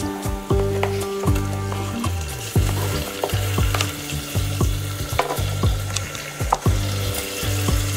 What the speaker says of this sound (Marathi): टमाटा छान आपल्याला मऊ होईपर्यंत परतून घ्यायचं आहे